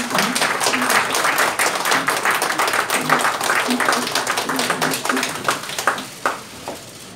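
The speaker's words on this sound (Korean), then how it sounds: "우리 박수로 한번 환영해 주시기 바랍니다." An audience at a press conference applauds to welcome a minister, dense sustained clapping that thins and fades out over the final seconds.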